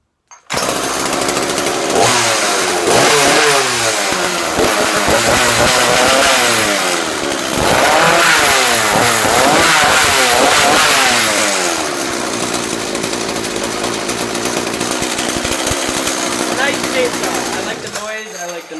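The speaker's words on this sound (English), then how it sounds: "That's how you know it's a good chainsaw." A chainsaw snaps to life and runs loud and close, its engine revving up and down in rough, buzzing surges before idling near the end.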